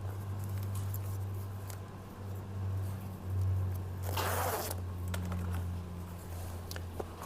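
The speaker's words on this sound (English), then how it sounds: "untuck the zipper" A single zipper on seat bottom upholstery is pulled open in one steady, raspy stroke lasting under a second, up close against a constant low hum.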